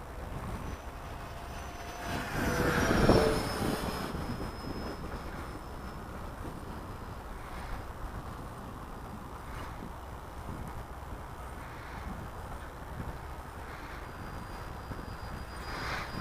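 A Freewing Rebel V2 RC airplane flies in high winds at about 85% throttle, a distant motor drone that swells briefly and then holds steady under constant wind rumble.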